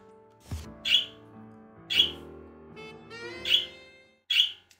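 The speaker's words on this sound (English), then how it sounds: "Say good morning to the birds, by the way. They are definitely trying to get my attention." Birds chirping in short, bright bursts, four distinct calls spaced about a second apart over a low steady background, clear and fairly close with no talking.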